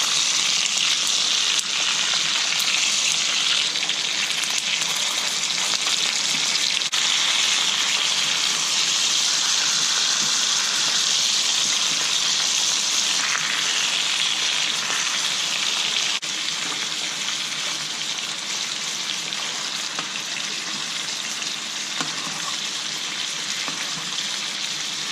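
Brined pork chops sizzle in butter and oil with sprigs of thyme in a pan, producing a loud, constant, dense hiss that continues without pause.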